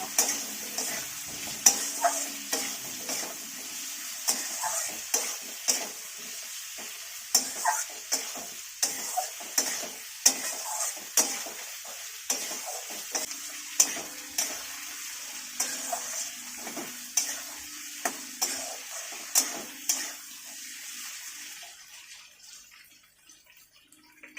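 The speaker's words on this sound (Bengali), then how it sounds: "পেঁয়াজটা আর আলুটা এবার একটু হালকা লাল লাল ভাজা হবে" Potatoes and chopped onions fry in a pan, a continuous close sizzle broken by regular stirring scrapes and knocks of the utensil, fading out near the end.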